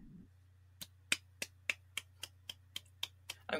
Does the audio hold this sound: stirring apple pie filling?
no